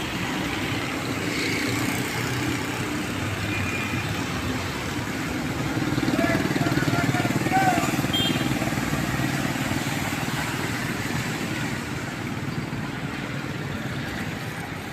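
Cars reverse out of a flooded underpass during monsoon rain in Karachi, their engines a continuous low rumble that swells slightly midway, with a person talking over the traffic.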